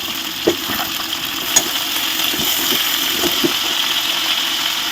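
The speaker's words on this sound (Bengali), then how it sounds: "ফুলকপিগুলো আমি হালকা ভাজবো বেশি থাকবো না তাই ফুলকপিগুলো আমি দিয়ে দিলাম" Cauliflower florets are added to oil in a kadai for a light fry, giving a steady, close hissing sizzle with a couple of brief knocks and clinks near the start.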